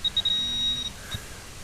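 A metal detector sounding over a shallow buried shell casing gives a crisp, high, sustained ringing tone that holds for most of a second with a brief blip after, faint and alone.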